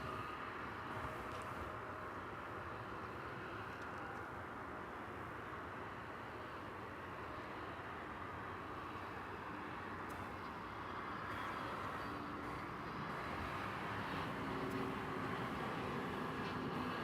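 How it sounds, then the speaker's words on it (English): A Frontier airliner from Denver arrives at DFW Airport at night, a steady distant jet roar and low rumble that swells slightly toward the end, with no voices. "And now, another Frontier flight coming in from Denver."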